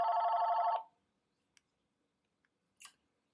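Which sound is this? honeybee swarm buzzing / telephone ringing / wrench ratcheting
telephone ringing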